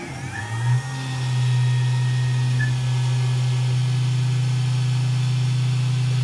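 A machine starts its cutting cycle while making a holder for a TTS tool, rising from a brief spin-up into a loud, steady motor hum and whine that holds evenly to the end, with no talking.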